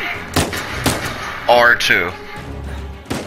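Several sharp gunshots in the video game Uncharted 4, spaced irregularly between stretches of character dialogue and player talk, punchy and up close.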